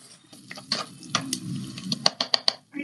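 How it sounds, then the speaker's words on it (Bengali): Chicken with onion and garlic paste being stirred in a pan for chicken makhmali: a soft sizzle under several sharp, close scraping clicks of the spoon, quiet and with no voices. "আমি আগে এটাকে পেঁয়াজ বাটা রসুন বাটার মতো দিয়ে একটু নেড়ে নেবো হালকা করে"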